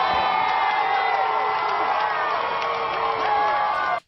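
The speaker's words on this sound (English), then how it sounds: "half the crowd is just cheering because they don't give a fuck" A large crowd cheers and whoops continuously at a game event while an arrow-struck character is taunted, a dense, loud roar of many voices with mixed shouts that cuts off abruptly at the end.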